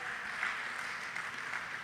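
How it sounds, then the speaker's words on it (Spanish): A church congregation applauding together, a steady, dense wash of clapping that holds at an even level throughout, with no voices standing out. "Dele ese aplauso al Señor"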